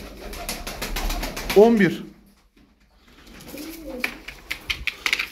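Kadro Kepez tumbler pigeons coo in a loft, a rolling throaty call near the start, then quieter shuffling and wing sounds, with someone talking over parts of it.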